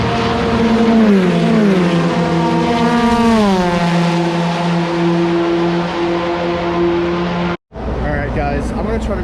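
A Porsche 911 RSR-19 prototype race car engine at a racetrack, loud and close, its pitch rising and dropping through gear changes before settling into a sustained high drone, followed by a brief cut and more engine noise.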